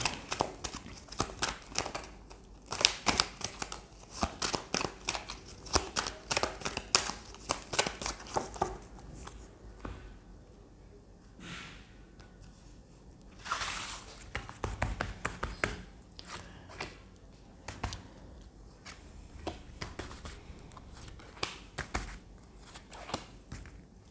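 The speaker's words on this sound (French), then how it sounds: "Allez, on va tirer d'autres cartes." Tarot cards are drawn and shuffled, with rapid irregular bursts of card flicks and taps close by, pausing briefly between shuffles.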